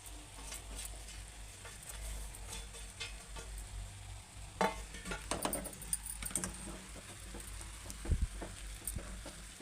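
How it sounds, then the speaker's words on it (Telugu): Egg, potato and rice mixture stirred in a pan, soft frying sizzle with intermittent scraping and clinking of a spoon against metal, faint and close, no talking. "ఇలా వైట్ రైస్ కనిపించకుండా ఇలా కలుపుకుంటూ ఉండాలి."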